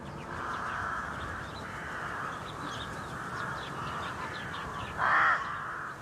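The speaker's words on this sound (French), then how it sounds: "Non loin de la ferme, dans la forêt voisine, le corbeau est en alerte." A crow caws repeatedly in a forest near a farm, harsh calls close and steady over a dense, rustling background, with one louder caw near the end.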